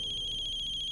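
A phone rings back on an outgoing call, a steady electronic tone pulsing rapidly and continuously, clear and close with no voices.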